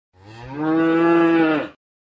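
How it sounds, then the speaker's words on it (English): A cow moos once in a single long, loud, close bellow with a clear, steady tone, rising in and then cutting off sharply, with no other sounds around it. "cows can produce milk"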